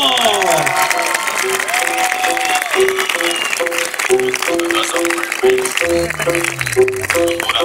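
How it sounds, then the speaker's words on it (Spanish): Street-show crowd in Mar del Plata applauding with shouts and whistles, a dense clatter of clapping under loud voices and rising and falling whistle-like tones, with a sliding pitch near the end. "A la cuenta de tres aplausos, gritos, silbidos"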